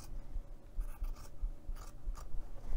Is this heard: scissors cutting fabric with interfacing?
yes